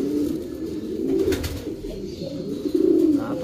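Pigeons coo in low, repeated throaty phrases, close and fairly steady, with a soft rustle partway through.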